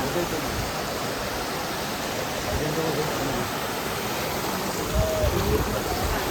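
A waterfall rushes close by with a steady, dense roar of falling water that holds even and unbroken throughout, with faint voices mixed in.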